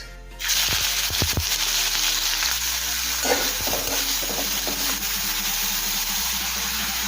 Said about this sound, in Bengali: এখন তেল গরম হয়ে গিয়েছে, তেলের মধ্যে ফোড়নে দেবো অল্প করে গোটা জিরে আর তেজপাতা, দেবো কুচিয়ে রাখা পেঁয়াজ